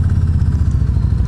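A 2018 Yamaha Venture motorcycle engine runs with a steady, loud, low rumble, a close continuous throb without a break.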